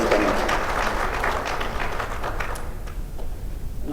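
An audience at a meeting with a transport union breaks into a burst of applause that starts dense and loud, then thins out and fades within a few seconds.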